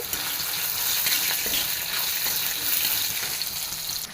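Onion and dried red chillies fry in a pan for a roasted-coconut Kerala sambar, making a dense, even, close sizzle that holds steady throughout with no talking.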